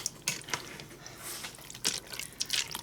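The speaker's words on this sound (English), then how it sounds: "I'm going to put a little bit of water in that jar to rinse it out" Water trickling and splashing into a jar to rinse it out in a home kitchen, heard as short irregular pours and drips close at hand.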